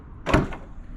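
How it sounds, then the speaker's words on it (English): Rear door latch on a Toyota FJ Cruiser releasing, a single short, close mechanical clunk followed by a brief rattle as the door starts to open. "I'm just gonna release the rear door latch here by holding down this"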